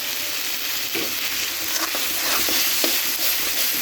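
Spices and garlic paste with a pinch of salt sautéing in oil in a pan, a loud continuous sizzle close up, punctuated by a few sharp scrapes and taps of a spoon stirring.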